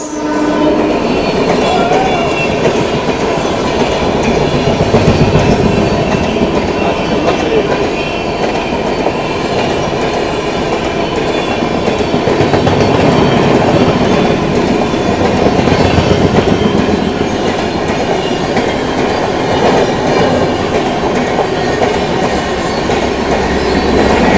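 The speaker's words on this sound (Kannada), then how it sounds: "ಕಾನ್ಸ್ಟೆಂಟ್ ಒನ್ ಟೆನ್ ಓಡೇ ಓಡಾತೈತ್ರಿ ಯಾಕಂದ್ರೆ ನಮ್ದು ಐ ಸಿ ಎಫ್ ಕೋಚ್ ಐತಿ" Bhopal to Nizamuddin superfast train with ICF coaches running at speed, a loud continuous roar of wheels and rails with rhythmic clatter and a faint high squeal, heard from on board with no talk.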